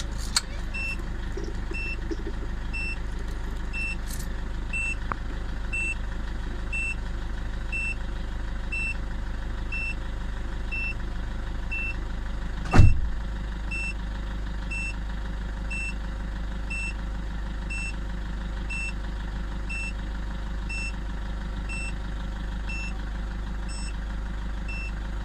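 A Toyota Grand Innova engine idles steadily on its turbo timer after the ignition key is turned off, a constant low rumble with a faint electronic beep and one sharp click partway through.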